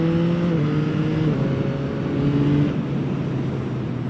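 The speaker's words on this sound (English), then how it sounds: "Listen to that engine." A 2024 Yamaha MT-09 motorcycle engine revs and drones close by, its pitch shifting up and down, with pops and bangs, and no talking.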